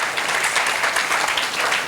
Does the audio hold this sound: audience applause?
yes